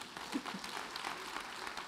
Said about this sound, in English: Now that actually really deserves an applause